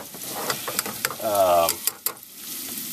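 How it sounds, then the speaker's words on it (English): Crackling, popping sizzle of bacon frying in a pan, with steady spitting grease and a few clattering utensil sounds, close by. "our bacon's still frying"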